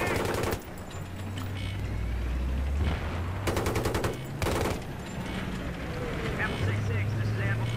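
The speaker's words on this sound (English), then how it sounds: "Got a machine gun." Battlefield 3 campaign gameplay carries bursts of rapid machine gun fire, two dense sustained volleys standing out against a rumbling vehicle drone and game sounds, with voices talking at times.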